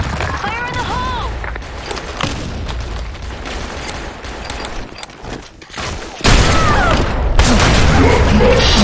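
A grenade blast booms out during a Blackshot online shooter match amid rapid gunfire, a loud low burst landing partway through the noisy, close battle, with voices calling out over it.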